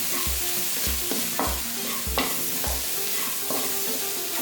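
Pepper powder and sugar stirred in a frying pan over low flame, a spoon scraping the pan in steady repeated strokes, about one every half second, over a soft continuous sizzle.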